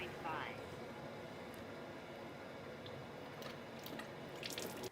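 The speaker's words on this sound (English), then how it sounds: "Running my cold water again." Cold water running from the tap into an Enagic Kangen SD501 water ionizer, a steady, faint rushing flow with light splashing and drips, with a person talking over it.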